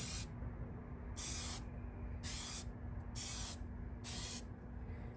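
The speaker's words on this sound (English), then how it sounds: "Let's get this plastic dip on the emblem." Five short bursts of aerosol plastic dip hiss onto a car emblem, each spray lasting about half a second, evenly spaced with quiet gaps between.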